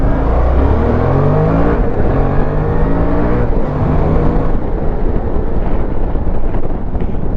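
A Suzuki V-Strom 650 motorcycle accelerates hard, its engine note climbing through the gears under heavy rushing wind noise, loud and close with no talking.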